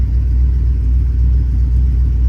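A square-body dually truck rumbles at a low, steady idle nearby, a constant engine drone with no voices.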